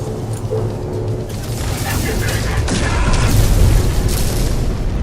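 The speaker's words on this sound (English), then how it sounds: "I did not mean to shoot the cargo hold." A freighter's cargo hold in No Man's Sky is shot, rumbling booms and bursts rolling on in a continuous heavy barrage that swells toward the end, with a voice faintly present underneath.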